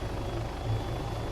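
An in-game helicopter in Arma 3 hovers and climbs, its rotor and turbine engine giving a dense, steady low drone with a slight swell midway, loud and close with no talk over it.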